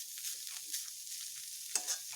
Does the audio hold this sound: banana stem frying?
yes